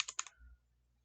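Three or four quick keystrokes on a computer keyboard during Excel VBA work, close and faint, a brief clatter followed by quiet.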